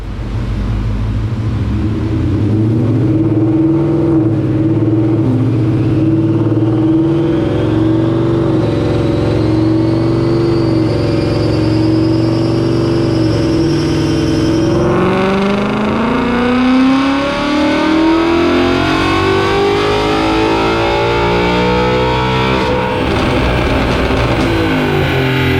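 A Coyote V8 swapped into a Fox Body with a 10R80 ten-speed automatic revs hard on a dyno, a loud sustained engine roar climbing steadily through the gears, with a shift near the middle before the pitch rises again toward the end.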